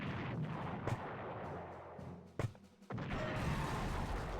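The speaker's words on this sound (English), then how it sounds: "Takes a lot of mortar shots to blow up a tank." Mortar rounds fire and explode against a tank in a video game: a few sharp, booming blasts punctuate a rumbling battle background, one heavy hit followed by a brief drop before the din resumes.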